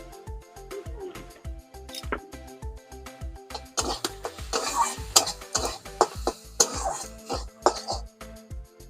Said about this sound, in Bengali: আমরা যেহেতু জল দিয়েছি তাই একটু ভালো করে ভেজে নিতে হবে যাতে জলটা না থাকে।